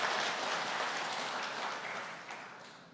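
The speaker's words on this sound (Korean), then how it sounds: "박수 한번 합시다." A church congregation at an anniversary thanksgiving service applauds together in a steady, full burst of clapping that slowly fades over a few seconds, with no voices on top.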